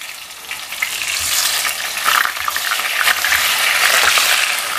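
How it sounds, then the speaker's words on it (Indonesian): Tempe fries in a pan of hot oil, a dense, close sizzle and crackle that swells and stays loud, with occasional stirring and no voices. "kita lanjut goreng tempe"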